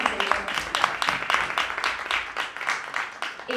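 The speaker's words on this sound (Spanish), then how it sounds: "creo que es muy importante dar un aplauso a Brenda" A small gathering claps for a few seconds, a steady patter of many hands, fairly close and moderately loud, with no talk over it.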